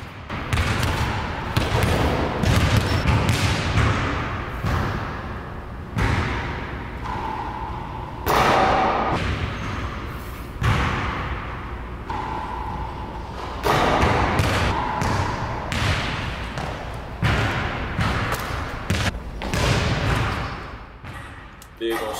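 Basketball bouncing during a warm-up form shooting session, repeated thuds at a loose steady rhythm on a court, heard under ongoing talk.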